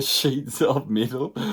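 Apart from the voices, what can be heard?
None of the usual background noises is heard.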